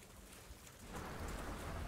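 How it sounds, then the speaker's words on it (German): Rain and a thunderstorm in the video game Outriders. Steady rain hiss swells in loudness partway through, with a low rumbling thunder bed beneath, and no voices. "Der Sturm wird stärker."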